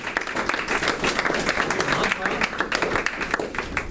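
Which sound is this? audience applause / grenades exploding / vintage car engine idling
audience applause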